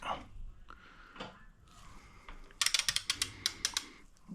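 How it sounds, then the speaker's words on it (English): A socket ratchet clicks in a quick run of sharp close ratcheting on engine intake bolts, preceded by quieter handling sounds. "it's important to make sure that your socket is squarely on the bolt"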